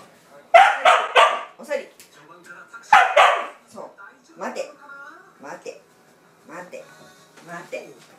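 A white Shiba Inu barks and yips several times in short bursts, close and loud, mixed with a person speaking to it in between.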